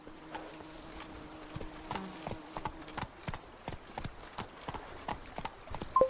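Hooves of a horse in The Witcher 3 clip-clop in a steady, fairly close rhythm, evenly spaced beats over a faint ambient background, with a brief voice at the very end.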